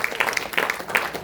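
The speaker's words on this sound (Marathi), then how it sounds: "जोरदार टाळ्या" An audience at a stage performance breaks into applause, a dense burst of clapping that carries through the short moment, close and fairly loud.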